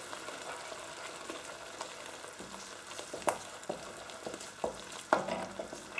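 Toasted, ground seeds being stirred into a sizzling pan of fish curry base, a soft steady fry with a few clattering spoon scrapes and knocks against the pan, close and fairly quiet, with no talking.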